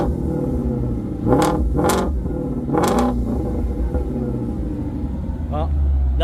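A car with a 5.2 engine revs hard in several loud bursts, rising and falling sharply over a steady rumbling idle, with one shorter blip near the end; the sound is close and loud, and people can be heard talking.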